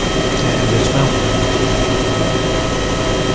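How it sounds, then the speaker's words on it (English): Helicopters in the ARMA 2 video game landing at a landing zone, a loud, steady wash of rotor and turbine noise filling the whole moment without a break. "And then the next two choppers will land, while the last two defend."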